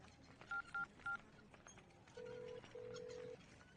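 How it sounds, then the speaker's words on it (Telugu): A phone number dialed on a telephone keypad, three short beeps followed by two longer tones, faint and close, with no talking. "ఒక ఫోన్ చేసుకోవాలన్నా"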